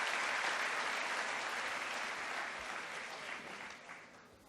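Audience applause at a convocation ceremony, a steady dense clapping from a large crowd that fades slightly toward the end.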